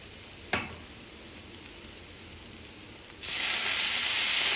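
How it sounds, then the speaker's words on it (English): Half-fried vegetables for a vegetable dum biryani, with coriander leaf and curd added, hiss faintly before one sharp clatter, then a sudden loud, steady sizzle swells near the end. "Now our vegetable is half fried, so we'll add some coriander leaf and we'll add some curd."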